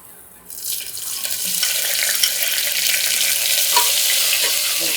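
Sliced onion dropped into hot ghee with whole spices for chicken biryani, bursting into a loud, steady broadband sizzle after a quiet start, with occasional stirring clinks, alone and close.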